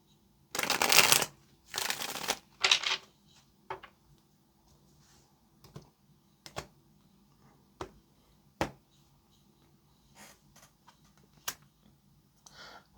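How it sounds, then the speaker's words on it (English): Tarot cards being shuffled by hand, two loud riffling bursts up close followed by a string of softer taps and flicks as the deck is squared and handled, with no talking. "All right, last shuffle"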